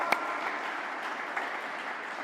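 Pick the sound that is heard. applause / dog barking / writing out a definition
applause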